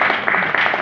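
A church congregation breaks into applause during a Christmas sermon, many hands clapping together in a dense, even patter that fills the brief moment without any voice over it.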